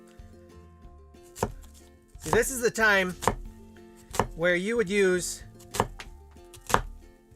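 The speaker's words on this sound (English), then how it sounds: "Okay, let's keep chopping." A knife chops Sunions tearless onions on a cutting board, giving sharp, evenly spaced thuds close by, with a person talking between the cuts.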